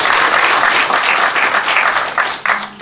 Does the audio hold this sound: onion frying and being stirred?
no